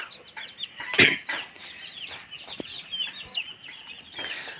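Chickens and guinea fowl on a farm keep up a busy chorus of clucks and squawks that rise and fall at close range, with one sharper loud call partway through.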